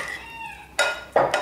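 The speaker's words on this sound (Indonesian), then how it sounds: "Lalu kita aduk dengan sendok saja cukup." Spoon stirring mascarpone in a bowl for tiramisu: a couple of close, bright scraping clinks of metal against the bowl after a faint ringing tone, loud and brief.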